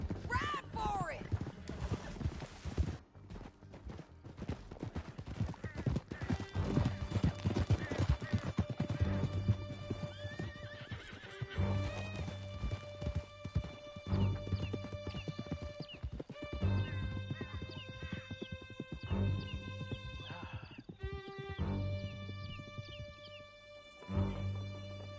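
Horses gallop in Red Dead Redemption 2 while riding hard out of a canyon, with continuous rapid hoofbeats, occasional whinnies and game music, and voices talking over parts of it.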